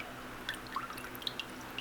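Runny glue and water mixture for patching a paper mache pumpkin drips in a few small, close, soft wet plips spaced irregularly over quiet room tone.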